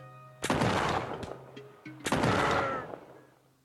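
Gunfire from an attacking player in the pirate ship video game Blackwake, two loud close shots about one and a half seconds apart, each ringing out with a long decaying echo.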